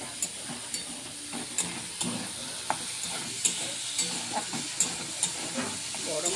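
Green chilies sizzle and fry with boiled chowmein in a pan, a steady hiss broken by sharp clicks and taps of stirring at an irregular rhythm, close and moderately loud with no talking.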